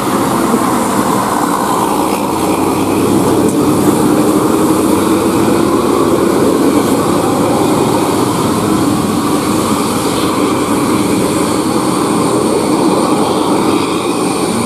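Hino bus engine of a Putra Simas Jetbus 3 HDD climbing uphill, a loud continuous roar and rumble with a low drone holding steady throughout, no voices over it.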